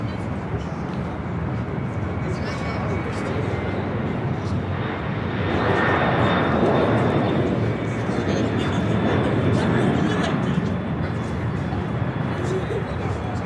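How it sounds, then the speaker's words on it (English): A FedEx Boeing 767 jet rolling for takeoff on runway 25 right at LAX, a broad distant engine roar that swells and builds partway through, with a voice talking over it. "FedEx 767 now rolling on 25 right."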